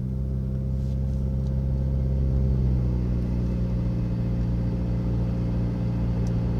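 A Subaru WRX with a CVT pulls away from a standstill under light throttle, giving a steady, low engine drone that stays nearly constant in pitch as it gains speed, with no talking.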